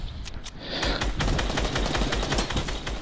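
Rapid gunfire in a video game match, dense bursts of automatic shots crackling continuously and loudly with overlapping reports throughout.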